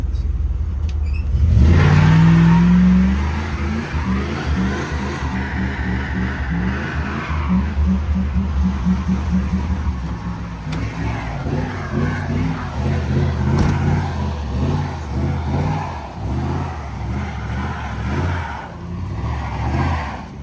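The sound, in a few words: stunt scooter engine revving doing a burnout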